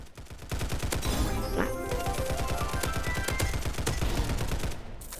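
Rapid automatic gunfire in a video game rattles almost continuously, loud and close, in dense bursts that stop just before the end.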